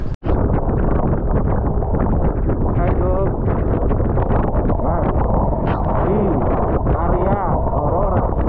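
Strong northeast monsoon wind (amihan) batters the microphone in Maria Aurora, Aurora, a loud, unbroken roar that smothers everything while someone talks briefly over it.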